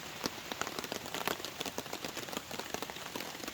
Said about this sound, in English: It started raining as soon as we got here, so we got the tarp set up.